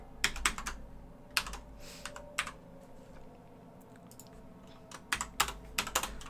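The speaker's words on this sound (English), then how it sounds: "And why am I typing it there?" Crisp computer keyboard typing in quick clustered bursts with pauses between, close and clear over a faint background hum while playing Factorio.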